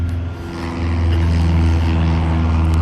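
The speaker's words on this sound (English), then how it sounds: "Look, it's a little airplane." A small propeller airplane takes off nearby with a steady low engine drone and buzz that grows slightly louder after the first second, near a Piper Tri-Pacer owner's location, with no talking.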